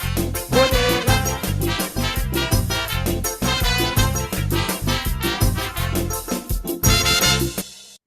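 Lively calypso song, a track sung for the summer festival in Anguilla, plays loud and full with steady pounding rhythm and dense bright instrumentation throughout, briefly dropping out near the end.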